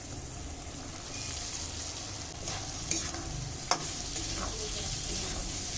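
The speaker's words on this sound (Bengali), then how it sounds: "পটল আলুতে খুব ভালো করে কষিয়ে নেবো" Pointed gourd and potato pieces frying and being stirred in a reddish turmeric spice paste with oil, a steady close sizzle with scraping spatula strokes and a couple of sharper clinks.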